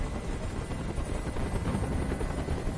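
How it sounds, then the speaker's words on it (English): A hovering helicopter in the video game Detroit: Become Human, with a steady, loud rotor thrum and engine roar filling the whole moment without voices. "I can't stand that noise anymore. Tell that helicopter to get out of here."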